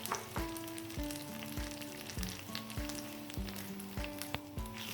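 Spices for a sarson ka saag tempering sizzle in hot oil, a steady crackling hiss that runs throughout, with soft musical tones playing faintly underneath.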